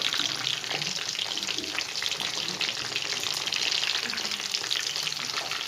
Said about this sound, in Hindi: इसी तरीके से हम इसको दूसरी साइड से भी फ्राई करेंगे हल्की आंच पे